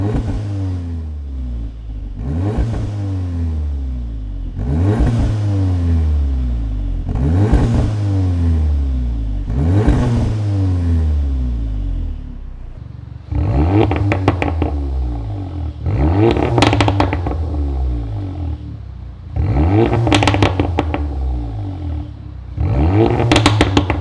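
A Volkswagen Golf 7.5 R with a Forge aftermarket exhaust is revved repeatedly while stationary, about nine sharp throttle blips in a steady rhythm, each rising and falling quickly, loud and close with no talking.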